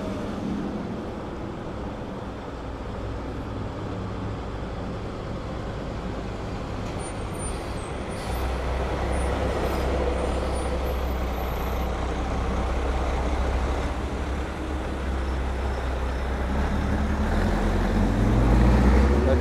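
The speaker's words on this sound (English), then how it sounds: "Traffic is very busy here, that's for sure." Busy traffic at 49th Avenue and 25th Street in Long Island City, Queens: a steady, fairly loud roar of trucks, buses and cars passing nearby, swelling toward the end, with no one speaking.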